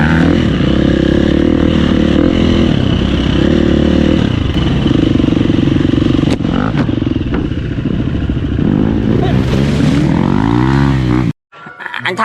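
Motorcycles ridden by a group on Phnom Kulen mountain near the Prasat Krohom temple area in Cambodia, giving a loud, close, steady engine drone with shifting revs that cuts off abruptly near the end.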